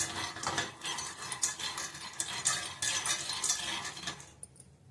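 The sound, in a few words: dry-roasting peanuts in a pan on gas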